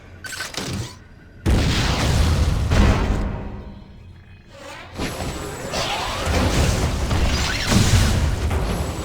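Missile blasts boom in Metroid Other M, several loud explosive bursts with whooshing and shattering debris spread across the stretch, no voices.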